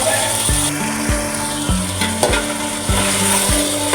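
Beef sinew meat fried and stirred with spices in a pot, loud continuous sizzling broken by regular rhythmic scraping strokes about every half second, close up.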